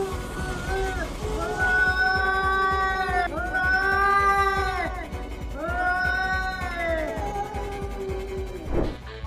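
A cat gives several long, loud, drawn-out yowling meows in a row, close and clear, each rising and then falling, with a brief clatter at the end.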